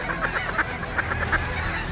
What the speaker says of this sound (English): Ducks out front, Jason.